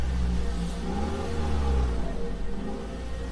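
A car engine runs steadily with a low rumble and mild revving as the vehicle is started and eased into a parking spot, loud and close throughout with no voices.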